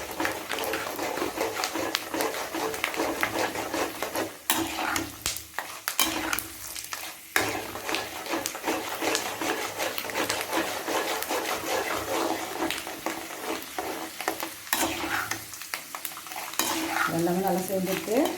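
Cashew nuts frying in a pan while cooking mint rice, a steady close sizzle broken by scraping spoon strokes and brief pauses in the stirring, with no voices.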